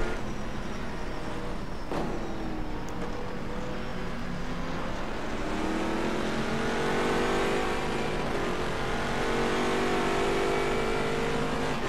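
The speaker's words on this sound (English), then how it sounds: "Quite a pack of cars now, all kind of being held up behind this GT3." A pack of GT3 and GT4 race cars at Silverstone in the rFactor 2 racing game drones past. Engines rise and shift pitch as they accelerate, loud and continuous, with no voices.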